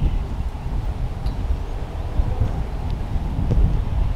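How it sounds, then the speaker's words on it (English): Gusty wind buffets the microphone in low, rumbling bursts, rising and falling continuously with faint rustling behind it. "And it's windy,"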